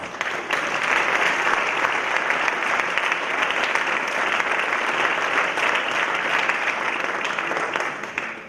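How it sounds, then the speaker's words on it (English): An audience at a high school athletics awards night gives students a loud, sustained round of applause, steady clapping that holds evenly for about eight seconds before tapering at the end. "the students here deserve a huge round of applause"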